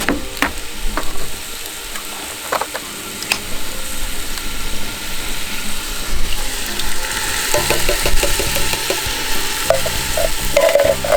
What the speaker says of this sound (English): it's time to add the chopped tomatoes, the 2 tins